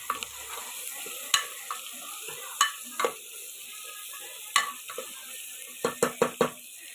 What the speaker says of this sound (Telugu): అల్లం పేస్ట్ వేగిందండి. ఇప్పుడు అందులో దోసకాయ వేసుకుందామండి.